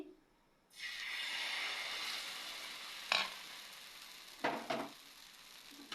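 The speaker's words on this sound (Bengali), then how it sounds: "তো প্রথমেই আমি 1 চামচ ব্যাটার দিয়ে দিচ্ছি।" A spoonful of batter for patishapta pitha hits a hot tawa and breaks into a sudden, steady sizzle that slowly fades, with a few soft clinks and scrapes of the pan being turned.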